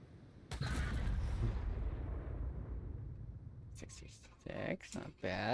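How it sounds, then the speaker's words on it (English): A flashbang grenade detonates in a video game with a sudden loud broadband blast that rings out and slowly decays over several seconds, followed by a person speaking. "Oh, flashbang."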